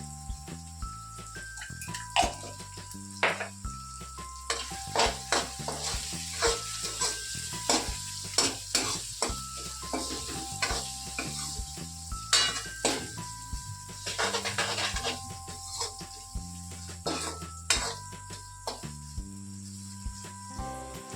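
Chopped onion and tomato sizzle in a pan over low gas heat while a spoon stirs them, giving a continuous frying hiss broken by frequent clinks and scraping strokes, close and clear.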